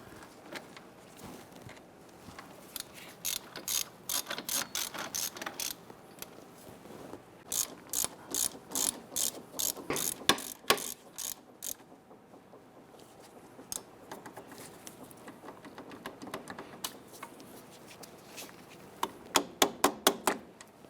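Hand ratchet running bolts down snugly on a CV axle assembly of a 1999-2004 Jeep Grand Cherokee, clicking in quick rapid bursts separated by short pauses, close and fairly quiet.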